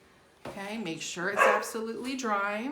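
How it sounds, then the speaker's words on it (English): A dog barks in the background of a home workspace, a few short yips under a woman's steady close-up talking. "that's my dog barking."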